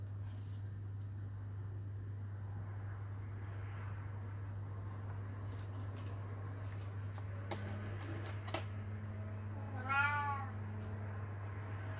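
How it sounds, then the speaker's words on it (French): A domestic cat gives a single short meow near the end, close and fairly soft, after a stretch of quiet room tone with a steady low hum and a few faint clicks. "Ça c'est mon chat."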